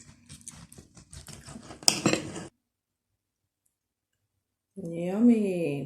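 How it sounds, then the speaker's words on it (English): A knife cuts up a cheesy stuffed bell pepper, making quick, light scraping clicks against a plate for a couple of seconds. Silence follows, then a person speaks. "Guess I can cut this whole thing up."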